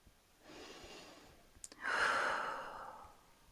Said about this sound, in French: On inspire et on expire.